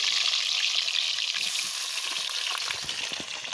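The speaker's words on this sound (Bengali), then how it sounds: "সেই তেলেতে আলুটা আমি দিয়ে দিলাম একটু ভাজা করে নেওয়ার জন্যে" Potatoes frying in leftover fritter oil in a wok, a loud, dense, continuous sizzle heard close up without any voices.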